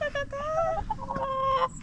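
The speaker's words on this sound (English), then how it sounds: "Hear the chickens, look." Chickens cluck and call in short tonal bursts, close and fairly clear, with little else around them.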